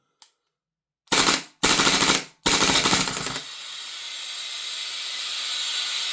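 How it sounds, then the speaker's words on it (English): An airsoft Glock fitted with an Airtac shot shell HPA adapter dry fires in three loud, rapid full-auto bursts, each a dense rattling blast separated by short gaps, followed by a steady hiss of escaping air. "We'll dry fire it first and see what's going on."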